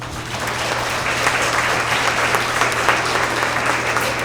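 Applause at a school award assembly for first grade students, a thick, continuous wash of clapping from a crowd over a low steady hum.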